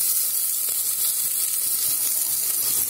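Onions and chopped vegetables fry in a pan with cumin and curry leaves, giving a steady, close, bright sizzle and hiss throughout with faint stirring, and no voices.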